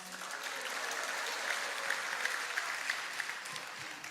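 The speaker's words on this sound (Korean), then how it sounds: "언제부터인가 박수 소리가 나는 게 전통이 된 것 같아요." Applause in a church during an afternoon worship service, right after a school anthem is sung. The clapping is a steady, dense roar of many hands, lasting the whole stretch with no voices over it.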